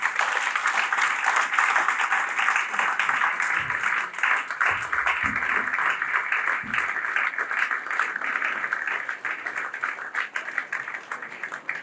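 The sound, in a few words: audience applause after a speech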